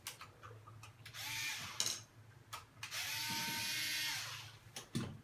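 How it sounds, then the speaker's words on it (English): A torque wrench ratchets in short clicking bursts while reinstalling a replacement thermostatic valve cartridge, faint and close with quiet gaps, plus a longer whirring mechanical stretch. "using our torque wrench."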